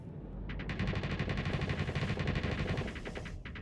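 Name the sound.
ship guns firing in combat, from video game Starsector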